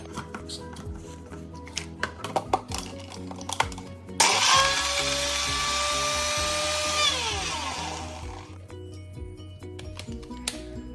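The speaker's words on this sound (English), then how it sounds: "I am taking 2 tablespoons of cocoa powder. And I am going to grind it." A small electric grinder blends two tablespoons of cocoa powder for a mug cake, with a loud high whir that starts suddenly, holds for about four seconds and then winds down. Quieter rattling and handling sounds come before and after.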